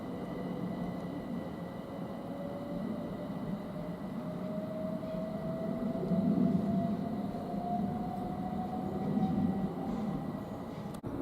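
A Thameslink Class 700 electric train on the Cambridge to Brighton service passes close by on the East Coast Main Line at Potters Bar, a steady rumbling roll with a slowly rising motor whine that swells in the middle and fades.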